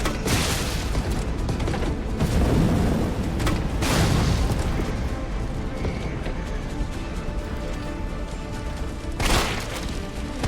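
A fuel tank blowing up in Resident Evil 3 Remake, with a deep rumbling boom and sustained roar filling the scene, followed by further bursts near the end.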